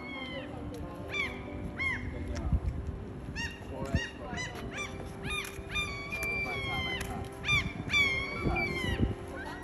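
Seagulls on the streets of Whitehorse squawk loudly and repeatedly, several harsh overlapping calls close by, over a low rumble of street noise.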